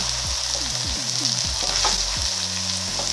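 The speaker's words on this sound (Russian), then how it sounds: "Вот мы сюда выложили всю капусту. Теперь это нужно перемешать." Cabbage being stirred in a frying pan, a steady broad sizzle with repeated scraping strokes of the utensil through the leaves, close and alone with no voices.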